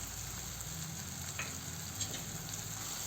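Pav bhaji masala with kasuri methi sizzling in a pan while being stirred, a steady close fry hiss with faint scraping strokes throughout.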